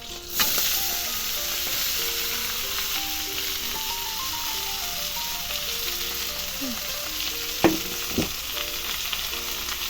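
Ash gourd sizzling and frying in a pan while being stirred, a steady hiss with scattered scraping and clinking of a utensil, plus a couple of sharper knocks near the end.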